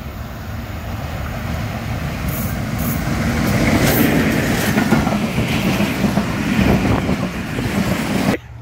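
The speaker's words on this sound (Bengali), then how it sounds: "আমরা পেয়ে যাই ঈশ্বরদী থেকে ছেড়ে আসা ঢাকা অভিমুখী আন্তনগর ঢাকা কমিউটার 99K।" A Dhaka-bound Dhaka Commuter intercity train from Ishwardi rolls past nearby on a Bangladeshi rail route, a loud sustained rumble with rhythmic clatter of wheels over rail joints that builds and holds before cutting off abruptly.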